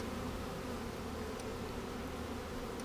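Honey bees from a newly installed package hive hum in a dense, continuous buzz, many wings droning together close by at an even level with no speech.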